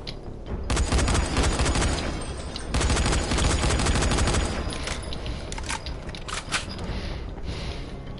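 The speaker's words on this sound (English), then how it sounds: "Stop shooting me, you idiots!" Enemies open fire in Dying Light: The Following, long loud bursts of automatic gunfire that rattle on in waves, then thin into scattered shots.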